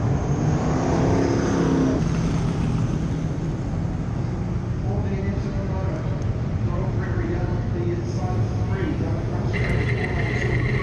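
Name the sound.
dirt track race car driving on track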